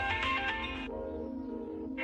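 Mobile phone ringtone in a family home, a tonal electronic melody with a few repeating notes that plays steadily and fairly close over a brief stretch, with no one speaking over it.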